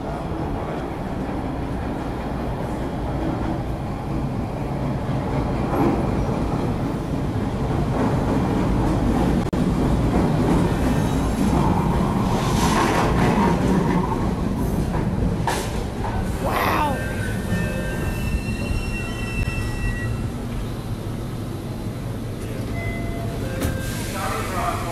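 Boston subway train rumbling along underground, a loud continuous roar with rattling and squealing metal tones, voices talking over it throughout.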